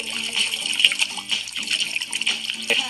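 Water pours and splashes in a steady, close stream with bright, hissing texture, running continuously for a few seconds with no voices.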